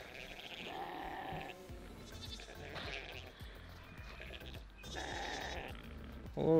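Sheep bleat on a farm, several loud wavering calls coming close by in separate bursts, with a sharp noise at the very end.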